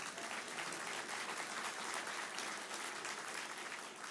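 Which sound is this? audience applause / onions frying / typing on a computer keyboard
audience applause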